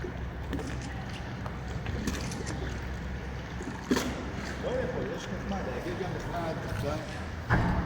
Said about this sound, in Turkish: Teknemiz zarif bir hareketle geri döndü